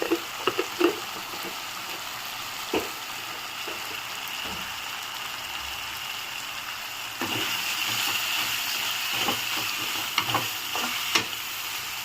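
Tomatoes and chili powder fry in a pan for tomato rice, a steady close sizzle with occasional stirring clicks and scrapes, growing slightly louder partway through.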